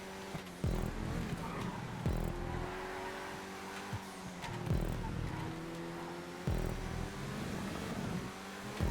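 Stromberg racing through a GTA5 stunt course: a strained engine drone rising and dropping with several quick gear changes and throttle lifts, loud and close.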